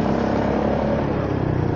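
A steady engine drone with a rough, throbbing rumble, loud and close, as a fast vehicle revs hard without pause, heard from a Honda Forza 300 scooter.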